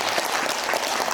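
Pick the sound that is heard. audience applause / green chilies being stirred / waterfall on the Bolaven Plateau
audience applause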